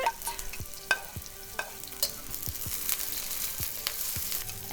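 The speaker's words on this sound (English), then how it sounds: "And while the onions are in there, I'm going to put my carrot." Onions and carrot fry in a pan for an Asian-style noodle stir fry, a steady sizzle broken by sharp clicks and taps of a utensil against the pan, with no talking.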